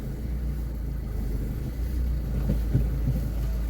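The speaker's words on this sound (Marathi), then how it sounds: "गाडी आपण आता काढतोय." A car pulls out at the start of a road trip, its engine giving a steady low rumble with faint wind noise and an occasional soft bump, and nobody speaking.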